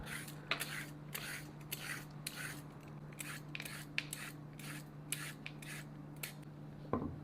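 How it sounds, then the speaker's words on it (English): A carrot is peeled for an escovitch sauce, giving a quiet series of short scraping rasps in an uneven rhythm over a steady background hum, with a faint clink near the end. "now I'm going to start off by peeling the carrot"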